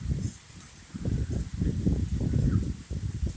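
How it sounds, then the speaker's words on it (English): Rain pouring down in a windy summer night storm in Indiana, a steady close rushing wash with gusty swells, no voices. "Pouring down the rain."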